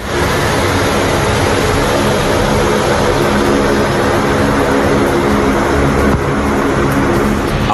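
Loud, continuous roar of Air Force fighter jets passing over a runway built on the Purvanchal Expressway, a dense broadband rumble holding steady throughout without any speech.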